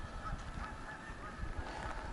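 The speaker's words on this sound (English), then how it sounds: "we have got ducks all over the place. They are making noises." Ducks out in the open, honking and quacking over a steady outdoor background noise, a continuous mix of bird calls with no one talking.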